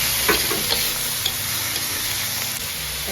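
Garlic, ginger, onion and pork sauté in a pan for laing, giving a steady close sizzle and frying hiss with a few light stirring scrapes throughout.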